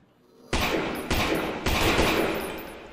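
Three loud, sharp gunshots from the horror video game Lost in Vivo, each about half a second apart with a sustained rumbling tail, and no talking over them.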